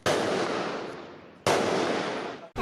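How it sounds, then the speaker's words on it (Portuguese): Explosions from robbers blowing up a bank safe in the early morning on Ilha da Conceição, Niterói: two loud, sharp blasts about 1.5 seconds apart, each with a long decaying roar, and no voices. "As explosões acordaram moradores da Ilha da Conceição"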